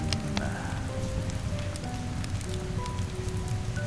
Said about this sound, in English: That night, a hellacious storm rolled over Ohio. Rain lashed the windows like handfuls of gravel.